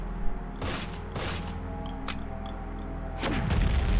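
Grenade launcher shots and blasts in the zombie survival game The Evil Within, heard as two sharp booming bursts early on, then a heavier rumbling explosion near the end over a low mechanical hum.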